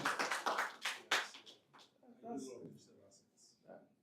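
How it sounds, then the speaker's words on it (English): Sharp bursts of audience clapping at an investment masterclass retreat, loud at first and then thinning out, with talking from the room over the later part. "Clap for this man."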